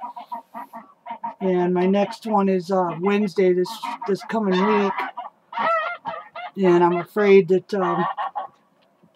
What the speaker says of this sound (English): You can hear my geese in the background.